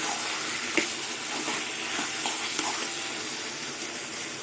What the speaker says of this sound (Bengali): এইভাবেই আমি অনবরত খুঁটি দিয়ে নাড়াচাড়া করতে থাকবো যাতে পোড়া না লেগে যায়